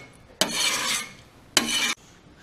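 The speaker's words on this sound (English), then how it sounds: "So we're going to clean off the grill." Two firm, rasping scrapes of a metal scraper across a grill surface, each lasting about half a second, close and distinct with a short quiet gap between them.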